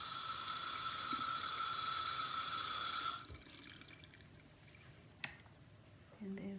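Running water from a tap wetting natural hair during a Chebe application: a steady rushing stream for about three seconds, then it stops, leaving quiet drips and a small clink.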